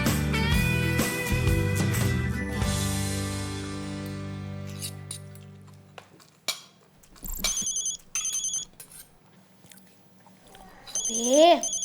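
A telephone rings in an Indonesian domestic scene. A ringtone chirps in short, repeated electronic bursts after a sustained musical chord fades out, and a rising warble comes near the end.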